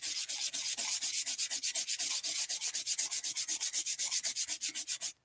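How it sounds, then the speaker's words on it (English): Sandpaper rubs back and forth over a printed magazine image to distress its brown areas, in a quick, steady run of about forty close, scratchy strokes with no talking. "I've been sanding over the brown"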